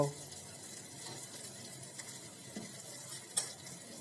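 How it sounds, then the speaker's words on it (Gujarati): Whole gathiya curry roasts quietly in a pan with a low, soft sizzle and faint stirring scrapes, plus one brief utensil clink near the end. "બે મિનિટ કે પાંચ મિનિટ સુધી તેને શેકાવા દઈશું"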